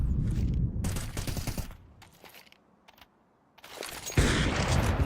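Bursts of rapid automatic fire and sharp shots from a MAG-10 and an AWP in a Counter-Strike match, dense and loud at first, thinning to near silence, then swelling again into heavy gunfire.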